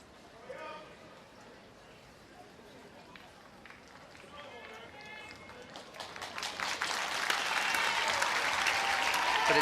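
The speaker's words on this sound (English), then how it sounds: "every time she gets up, she can get a round of applause" A football stadium crowd at a women's FA Cup quarter-final between Arsenal and Brighton & Hove Albion breaks into applause, starting faint under commentary and swelling into broad, sustained clapping toward the end.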